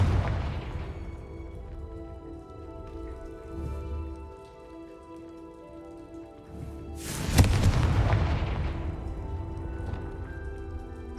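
The Confringo fire spell explodes in the video game Hogwarts Legacy, one sharp crackling blast that swells into a loud rumbling boom and decays over several seconds, amid steady rain-like ambience and lower earlier thuds.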